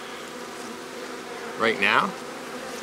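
Honeybees buzz around a hive's bottom entrance, a steady low hum throughout with a louder, closer burst of buzzing as a bee passes near; a voice speaks briefly.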